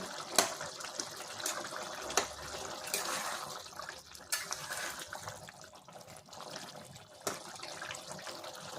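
A green jackfruit curry simmers in a pot, giving a steady, soft bubbling and liquid gurgle throughout, with a few brief sharper pops and no talking.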